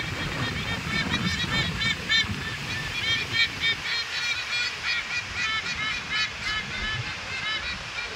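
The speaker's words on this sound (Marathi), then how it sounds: "हा आवाज हॉर्नबिल बर्ड्सचा आहे आणि आये दिन हे बर्ड्स इथे दिसतात" Loud, raucous honking hornbill calls repeat in quick bursts over a steady wash of surf or wind, several birds calling together close by.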